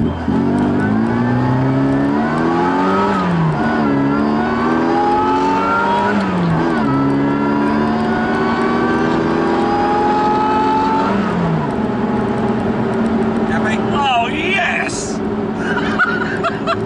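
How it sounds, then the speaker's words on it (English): A 160 bhp supercharged classic Mini pulls hard out of first gear, its engine rising in pitch through loud, close, repeated acceleration sweeps with gear changes, while people chuckle and talk inside the car. "Have a go at an acceleration out of first gear"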